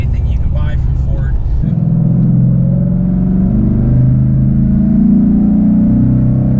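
A 2016 Ford Mustang GT fitted with Ford Performance parts, engine purring: a loud, deep, close rumble that settles into a steady low idle after a brief rev, with a voice heard briefly at the start.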